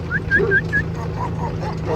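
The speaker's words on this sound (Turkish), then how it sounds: "Tabii kardeş köpeğimiz var." A farm dog barks in a short series of yips against a steady low hum of machinery, with birdlike honks mixed into the background.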